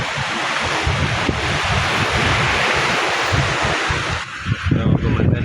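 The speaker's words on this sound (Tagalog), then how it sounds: "Pero yung hangin, medyo malakas-lakas yung hangin." Strong wind buffets the microphone outdoors near open water, a loud continuous roar with low gusty rumbles and a brief dip before rising again.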